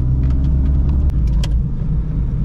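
A 1983 Dacia 1310 with its 1.3-litre, 8-valve, 54 hp engine is driving along. A constant low engine and road rumble fills the cabin, dotted with small clicks and rattles.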